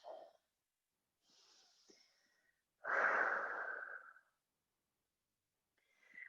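Audible yogic breathing during a vinyasa flow: a long, strong breath of about a second and a half stands out between softer, shorter breaths, close to the microphone, with quiet pauses in between.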